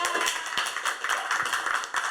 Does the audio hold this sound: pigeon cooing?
no